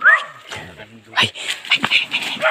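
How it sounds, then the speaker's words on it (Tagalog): A dog yelps and barks along a trail to Maapon Falls, several short sharp yips spread through the stretch, mixed under nearby chatter from people walking. "Oh, may aso pala."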